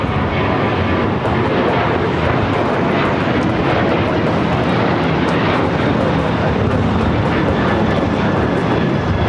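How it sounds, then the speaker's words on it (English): An Airbus A330 cargo plane takes off from the south side of Los Angeles LAX airport, a loud, steady broadband engine roar that holds unbroken for the whole stretch. "We're still waiting on that awesome cargo, A330. Should be taking off here on the south side"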